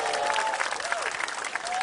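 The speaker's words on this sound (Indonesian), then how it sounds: "Tepuk tangan untuk Komex kita" Applause from a comedy competition audience fills the room for a comedian, a dense steady wash of clapping with a few voices calling out over it.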